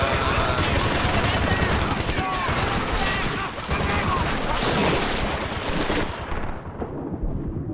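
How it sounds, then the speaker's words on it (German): Dense, continuous gunfire from a Battlefield Bad Company 2 firefight: rapid overlapping shots and blasts, loud and close, packed with battle noise that thins slightly toward the end. "Stehen unter Beschuss!"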